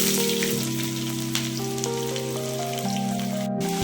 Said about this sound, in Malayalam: ചുമന്നുള്ളി ഇടാം.